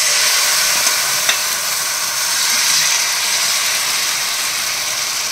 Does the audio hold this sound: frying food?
yes